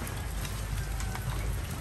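Heavy rain pours down steadily outdoors at a house under construction, a dense, even hiss of drops drumming on surfaces with no pauses and no voices.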